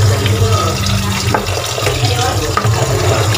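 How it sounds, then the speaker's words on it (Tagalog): Running water rinses freshly boiled tapioca pearls for milk tea, a steady close splash and hiss of a tap pouring over them for a few seconds with no talk. "huhugasan natin ng tubig mga palangga"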